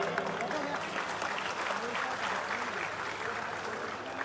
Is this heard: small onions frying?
no